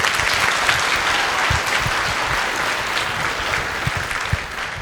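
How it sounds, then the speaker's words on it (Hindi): Loud, dense applause from a large gathering of students in an assembly with their institute's director, a continuous roar of many hands with a few sharper claps standing out, sustained for the whole stretch. "एक बार जोरदार तालियां,"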